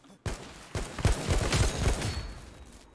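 Gunfire in Anarea Battle Royale, several sharp shots in a quick run after a brief quiet start, close and loud before fading into a ringing tail.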